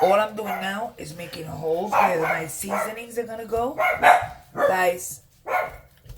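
Dogs bark and yip repeatedly in the background while a person talks close by over them in a kitchen, preparing pernil.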